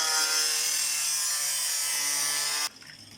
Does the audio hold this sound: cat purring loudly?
no